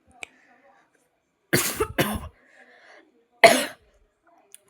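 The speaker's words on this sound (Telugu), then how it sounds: "నాకేమో దగ్గు వస్తుంది" A quick pair of harsh coughs, then a single cough a moment later, close to the mic in an otherwise quiet room.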